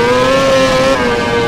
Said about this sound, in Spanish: Intentaba acelerar muy pronto y se me ha cruzado la moto.